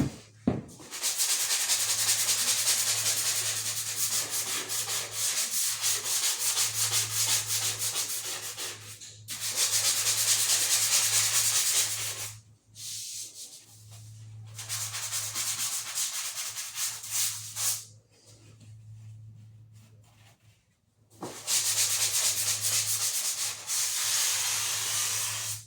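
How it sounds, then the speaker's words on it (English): Drywall high spots are sanded by hand in long, steady, hissing rubs that come in several sustained passes with short pauses, close up and moderately loud, with no speech. "So basically what you're going to want to do when you're sanding on these spots,"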